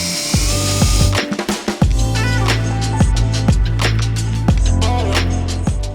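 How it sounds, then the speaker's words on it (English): A power drill bores through the fiberglass hull of a boat during a Roswell Aviator Pro tower install, with the loud whine cycling up and down in repeated bursts close by. "anytime you're drilling through fiberglass, it's a good practice to start in reverse, burn through the little layer of gel coat"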